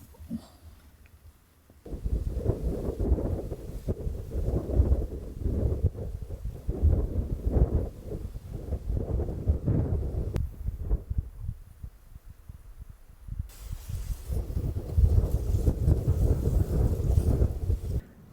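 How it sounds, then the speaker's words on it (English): Gusty wind buffeting the microphone outdoors on a stormy day in Oregon, low rumbling bursts that rise and fall over most of the stretch and strengthen toward the end. "It's a little windy out today"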